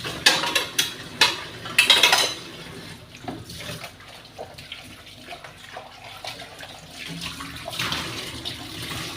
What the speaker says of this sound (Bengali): এই তো আমার বাসন পালাগুলো ধোয়া হয়ে গেল।